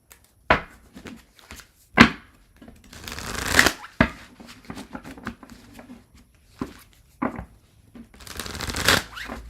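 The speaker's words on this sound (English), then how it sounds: "I'm going to shuffle and move on to" Tarot cards being shuffled by hand in short bursts of riffling and sliding, close and fairly quiet, separated by soft taps and pauses.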